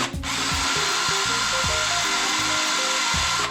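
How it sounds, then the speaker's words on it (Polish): Power drill widening holes in a frame during a Kymco MXU 550 ATV fitting, a loud close whine that repeatedly speeds up and slows in short bursts throughout. "poszerzamy sobie otwory w ramce."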